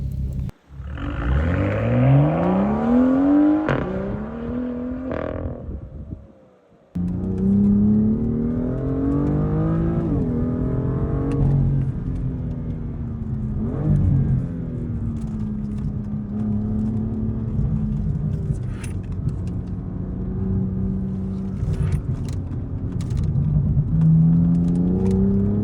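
A Porsche Cayenne driven on a hillclimb run in sport manual with traction control on: the engine revs up through the gears in rising sweeps, cuts briefly on a shift, then pulls on in a steady loud drone, close and continuous.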